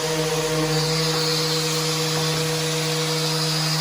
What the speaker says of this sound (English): I used to hate sanding, but this actually makes it super easy, super quick.